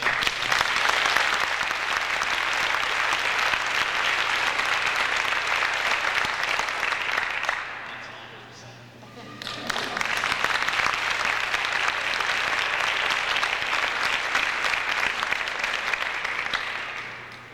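A crowd at a high school boys' basketball game between Alleman and U.T.H.S. in Rock Island, Illinois, claps in a sustained loud wash, dips briefly to a lull midway, then surges back into full applause.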